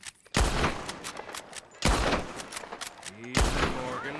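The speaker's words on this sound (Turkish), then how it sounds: "Sürgü mekanizmalı tüfekmiş. Bir bakalım nasıl atış ediyor." A bolt-action rifle in Red Dead Redemption 2 fires three loud, sharp shots spaced over a few seconds, each with a long echoing tail, and someone talks faintly between them.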